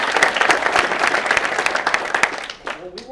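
Audience applause rings out at a speaking event, a dense wash of clapping that tapers off near the end as a voice begins over it.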